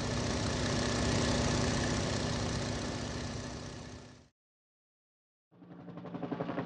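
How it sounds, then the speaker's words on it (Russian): A light biplane's engine drones loud and steady with a fast, even pulsing, cuts to silence for about a second, then returns with a similar throbbing note. "Биплан."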